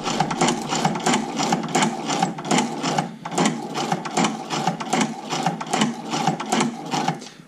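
A Chinese shoe patcher sewing machine runs after its bearings were cleaned and packed, giving a close, fast, even rhythmic clatter of the needle mechanism that continues steadily throughout.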